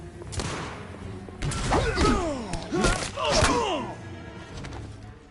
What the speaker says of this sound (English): Throwing smoke grenades!